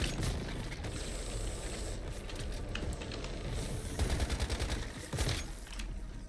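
Rifle gunfire in the survival shooter Once Human crackles in rapid bursts, with a denser rattle of repeated shots near the end over a steady background din.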